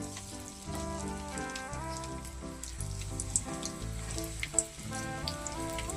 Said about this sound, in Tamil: அவ்வளோ சூப்பராக பொரியுது பாருங்க.